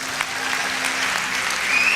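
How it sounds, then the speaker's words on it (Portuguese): Steady applause from a church congregation, continuous clapping that swells slightly toward the end. "vamos dar um aplauso ao Senhor,"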